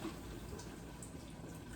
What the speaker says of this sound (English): And then we're gonna add some beef broth